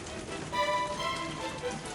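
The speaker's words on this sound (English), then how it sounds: "it seems today has turned out to be a blustery rain" Blustery rain falls steadily outdoors at a Halloween wedding venue, a close, dense wash of patter and hiss with faint tonal background sounds woven through.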